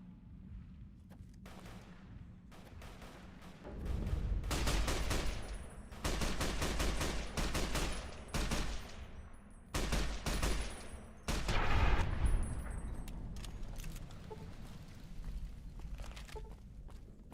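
Survivalist rifle firing in Fallout New Vegas, bursts of sharp gunshots in rapid clusters with pauses between, loud and close, alongside faint footsteps and no talk.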